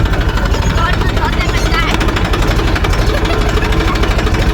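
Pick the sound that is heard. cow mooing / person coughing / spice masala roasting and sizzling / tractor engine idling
tractor engine idling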